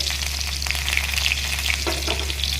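Onions sizzle and fry in hot oil after spluttering mustard seeds while making a plantain thoran, a steady close crackle with a few stirring scrapes, no voices.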